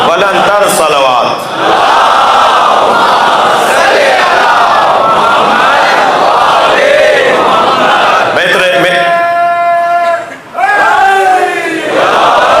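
A large crowd at a Shia majlis loudly reciting salawat in unison, a dense sustained roar of many voices with chanted rises that carries steadily across the clip and swells again near the end.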